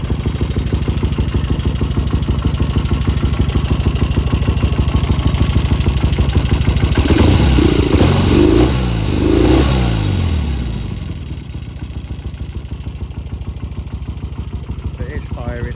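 A 1972 Triumph Bonneville T120V 650cc twin runs at a steady idle with a slightly uneven beat, then is revved in a few short, sluggish blips before settling back to idle, heard close and alone.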